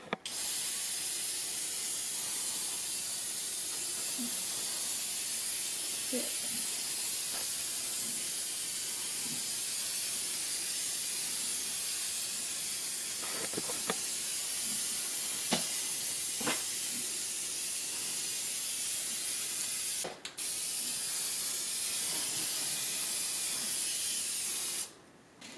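Rust-Oleum clear coat sprayed from an aerosol can onto a 1984 Toyota Celica GTS valve cover: a long continuous close hiss held almost without a break, dropping out briefly once and stopping at the end, with faint knocks underneath.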